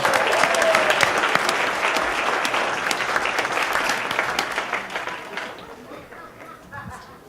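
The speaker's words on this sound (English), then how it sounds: "Let's give him a big round of applause." Audience applause fills a hall at a Christmas tribute event, a dense, steady clapping that starts loud and gradually tapers off toward the end.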